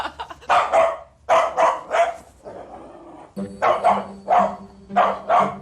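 A dog barks loudly and close by in quick bursts of two or three, pausing briefly between volleys.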